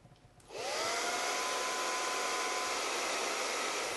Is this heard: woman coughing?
no